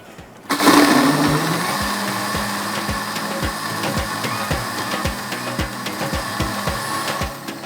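A blender grinding almonds, pistachios and coconut kicks in abruptly and runs loud and continuous, with a rhythmic knocking of the pieces inside the jar as it whirs on.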